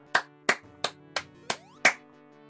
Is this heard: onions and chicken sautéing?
no